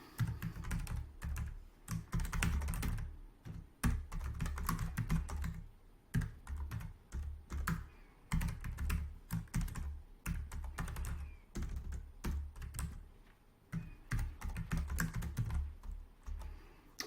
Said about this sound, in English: I'm just taking the time to type it.